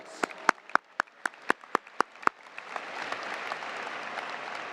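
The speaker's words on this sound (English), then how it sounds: "Let's give our top 10 a round of applause." Applause at a high school graduation ceremony for the top ten graduating students: a few sharp, separate claps near the mic come first, then a broad wash of clapping from the crowd swells and holds.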